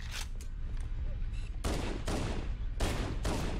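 A weapon fires in the video game Halo: Combat Evolved, with a few sharp, bright shots standing out over a steady, noisy battle background of rumble and hiss.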